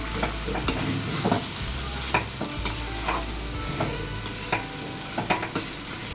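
Elephant foot yam pieces frying in oil in a pan, with a steady loud sizzle and repeated scraping strokes of a spoon stirring throughout.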